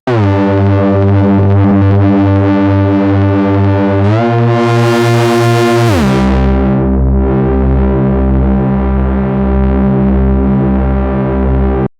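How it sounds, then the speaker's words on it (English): A Moog synth bass for melodic techno, pushed into grit by turning up the feedback knob, drones loud and continuous with a steady pulsing pattern, shifting in pitch and texture partway through with a brief swept rise. "we can use this feedback knob here to add a bit more distortion and grit into the sound"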